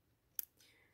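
A single tiny, crisp snip of small embroidery scissors cutting thread with the blade tips, quiet and close, in an otherwise hushed space.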